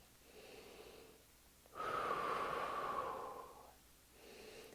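One long, deep inhalation through the nose and mouth during a breathing exercise, close and clear, framed by quieter breaths just before and after with near silence between.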